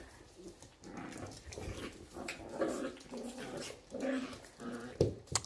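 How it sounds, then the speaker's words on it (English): A dog growls and whimpers at its own reflection in the glass, producing restless low grumbles and soft whines across several seconds, close by and fairly loud, with no talk over it. "She's wondering who that dog is."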